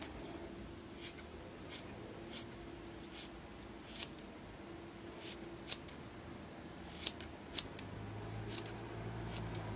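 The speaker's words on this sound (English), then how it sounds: "Snip, snip." Scissors snip fur on a crochet piece, a series of faint, sharp cuts spaced irregularly over a soft background hiss, no talking.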